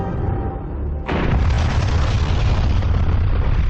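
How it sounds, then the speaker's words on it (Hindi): The Soviet Union's largest bomb explodes in a sudden, massive blast that jumps from a low rumble to a loud, sustained roar spanning the whole range and rolling on without fading. "सोवियत यूनियन ने इंसान के बनाए अब तक के सबसे बड़े बम में विस्फोट किया था।"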